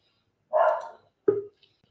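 A dog barks twice in the background, a fuller bark and then a shorter, sharper one about half a second later, both fairly faint and with no talking.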